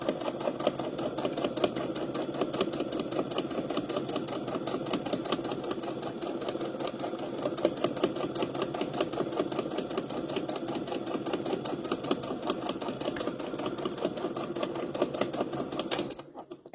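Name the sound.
sewing machine stitching fabric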